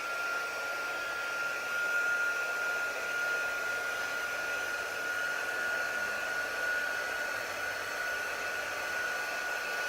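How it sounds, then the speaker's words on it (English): A heat embossing tool blows steadily as it heat-sets a stamped foil image, a constant whirring fan hiss with a thin high whine, close and unbroken throughout with no talk. "I'm just going to heat set that using our heat embossing tool"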